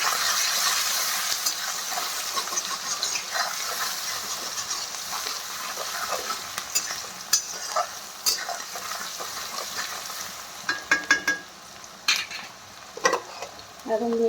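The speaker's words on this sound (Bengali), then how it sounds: "পেঁয়াজ কাঁচা লঙ্কাটাও দিয়ে দিলাম। এখন এটা ভালো করে লাল লাল করে ভেজে নিই।" Onion and green chilli fry in a pan, a steady sizzle with occasional stirring clicks and scrapes that grow busier toward the end, heard up close with no voices.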